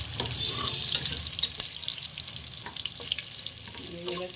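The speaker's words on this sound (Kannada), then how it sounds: "ಎಲ್ಲ ಚೆನ್ನಾಗಿ ಬಾಡಿಸ್ತೀನಿ. ಬೆಳ್ಳುಳ್ಳಿದು ಘಮ ಸ್ಮೆಲ್ ಬರ್ತಾಯಿದೆ." Garlic and banana stem sauté in a pan with a continuous, moderate sizzle, broken by occasional scrapes and light taps of a stirring spoon close by.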